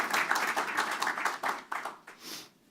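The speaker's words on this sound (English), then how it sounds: "Clap, clap, clap." An audience at an announcement event claps briefly in a short, close burst of applause that tapers off within a few seconds.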